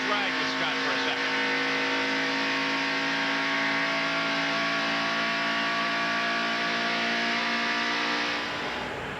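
IROC race cars at Watkins Glen, one engine held at high, steady revs, loud and continuous, with a commentator's voice mixed into the engine noise.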